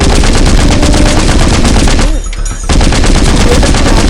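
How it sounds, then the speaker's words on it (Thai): Mounted weapon firing in the zombie video game Into the Dead 2, a loud, dense stream of rapid gunfire that briefly drops away midway before resuming at full intensity. "ใช้อาวุธติดขาตั้งโอเค จัดไป ขอยิงก่อนขอยิงก่อน"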